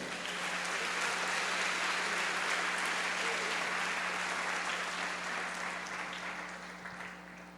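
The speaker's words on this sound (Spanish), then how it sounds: "Denle un fuerte aplauso a Dios." A church congregation claps in a long, dense burst of applause that swells and then slowly fades, with faint voices mixed in.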